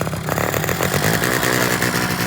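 A small engine with a bad choke runs again after a restart, a loud, rough, buzzing drone with an uneven rattling pulse throughout.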